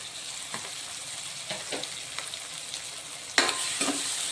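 Chopped tomatoes frying for Mumbai-style pav bhaji, a continuous close sizzle broken by several soft spatula scrapes and one sharper stir near the end.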